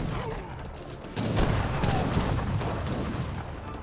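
Great Bombard cannons firing in an Age of Empires 3 battle, heavy booms and rumbling artillery blasts layered over constant battle noise, with a voice talking faintly underneath.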